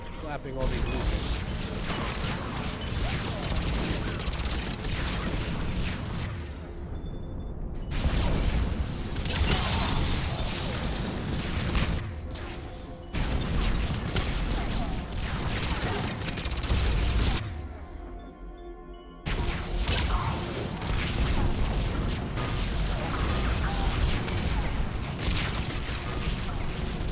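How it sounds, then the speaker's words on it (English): Dense, continuous bursts of combat in the game Mass Effect 3, with booms and rapid gunfire stacking over each other, broken by brief lulls, loud throughout with some voices mixed in. "All these explosions."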